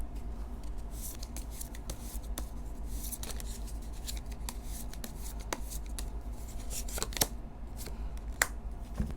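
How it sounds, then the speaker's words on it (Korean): Tarot cards are shuffled and drawn by hand, giving soft, repeated papery rubs and sharp flicks at close range against a low steady background hum. "조언 카드 뽑아보도록 하겠습니다"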